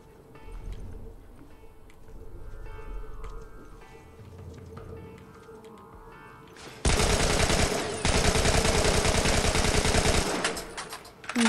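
Gunfire in The Last of Us, a long loud burst of rapid automatic shots that cuts in abruptly after a quieter stretch of ambient game sound, continuing for several seconds before stopping.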